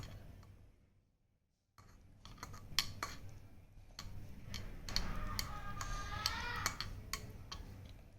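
Sambar rice being stirred in a metal pot, a run of scattered ticking and clinking scrapes of a spoon against the vessel after a brief near-silence, fairly faint, with no speech.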